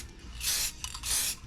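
A light coat of spray paint applied to a 1984 Corvette engine gasket: two short, close hissing bursts separated by a brief pause.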